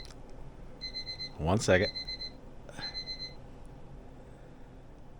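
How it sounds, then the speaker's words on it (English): A household alarm gives short repeated electronic beeps, fairly faint, under a man's speech that briefly overlaps it. "there's that alarm I was talking about"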